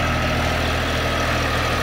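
A Shifeng 244 CL tractor engine idles steadily, a continuous low rumble with a throbbing vibration that holds evenly throughout, with no voices.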